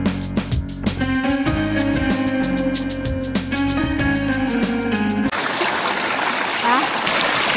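A river stream on the Mt. Mariglem hike in Zambales rushes and splashes steadily for the final couple of seconds, loud and close, after a stretch of music.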